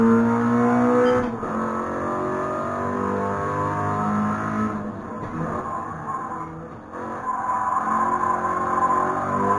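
A virtual Toyota GR86 in a racing video game revs near 8,200 RPM, giving a loud, steady engine drone with layered harmonic tones that dip briefly and then climb again.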